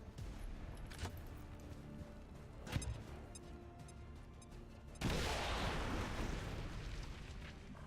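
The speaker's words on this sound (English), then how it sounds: "Purifier exploded, however it didn't hit the mech" An exploding Purifier enemy in XCOM 2, a loud burst that switches abruptly to a dense, roaring crackle halfway through and sustains, following a sharp crack earlier over busy game background.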